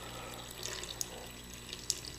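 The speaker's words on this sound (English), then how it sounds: "The splashing is louder than the hum from the motor" Water splashing steadily from a homemade flood coolant pump, a continuous close wash of liquid with a faint motor hum underneath and a couple of small drips standing out.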